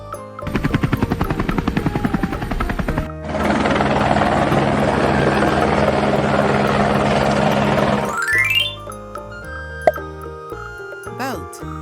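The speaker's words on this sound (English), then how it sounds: "Helicopter." Helicopter flying, its steady, loud rotor roar filling several seconds after a burst of rapid rhythmic chopping, with light background music that continues after it fades.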